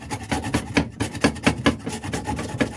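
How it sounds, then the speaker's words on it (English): A carrot being grated by hand into a bowl, with repeated rasping strokes in an uneven rhythm, close and fairly loud, with no talking. "let's go ahead and grate this carrot into the bowl here"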